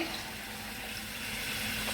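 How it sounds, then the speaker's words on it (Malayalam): A steady rush of water, about a cup, pours continuously into a curry pan for a couple of seconds, with no talking. "ഇനി ഇതിലേക്ക് നമുക്ക് ഒരു കപ്പ് വെള്ളം ഒഴിച്ചു കൊടുക്കേ"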